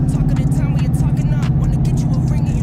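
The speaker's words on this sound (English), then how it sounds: "I hate cars that make a bunch of noise and don't go nowhere." A noisy car engine idles and revs steadily nearby, a loud low droning rumble with a constant pulsing throb and no sign of the car moving off.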